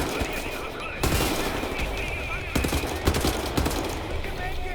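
Assault rifle fire in Wolfenstein: The New Order, loud bursts of rapid shots over a busy, noisy game backdrop, close and repeated through the stretch.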